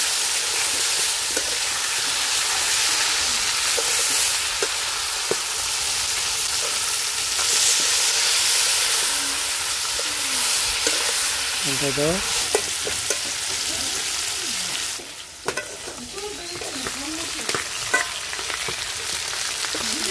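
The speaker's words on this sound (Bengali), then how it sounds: "মাথাটা আমি ভালোভাবে লাল লাল করে ভাজা নিচ্ছি" A hilsa fish head fries in hot oil with a loud, continuous sizzle and crackle, broken by a few brief scrapes and clinks.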